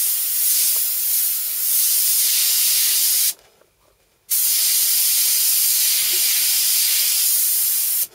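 An airbrush sprays paint onto a T-shirt, filling in stencilled areas of a Mick Thomson design. A steady, loud, close airy hiss stops for about a second midway and then resumes.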